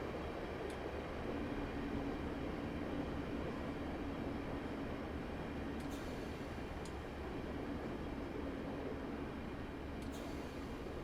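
A simulated two-coach Class 150 diesel train in Train Simulator 2016 rolls toward Newport station on the Bristol to Cardiff line, a steady, continuous rumble with faint clicks and no talking.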